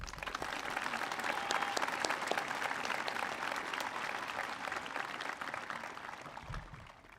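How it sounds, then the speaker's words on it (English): Audience applause at a high school commencement, a steady broad wash of many hands clapping that holds throughout, moderately distant in a large venue, with a brief low thump near the end. "Let's give them a round of applause."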